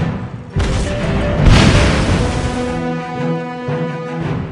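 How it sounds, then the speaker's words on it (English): In World of Warships Blitz, a warship's guns fire a full salvo, producing a loud booming blast that swells and rolls out over a sustained game-sound bed. "Double tap the fire button to fire a full salvo from all loaded guns"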